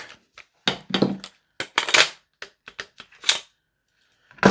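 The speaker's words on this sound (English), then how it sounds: "Let's hold the bolt back." Clicks and clacks from the bolt of an EMG / T8 / CYMA Noveske MWS airsoft rifle being racked and held back, with a Salvo precision magazine inserted, sounding as a string of loud, close, sharp mechanical snaps with short gaps between them.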